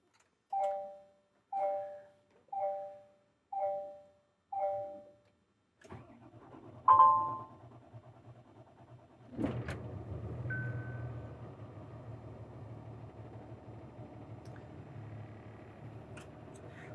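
A 2024 Kenworth T380 lumber truck with an Allison automatic starts up: five evenly spaced warning chimes come first, then the starter cranks and the diesel engine catches with a loud burst before settling into a steady low idle.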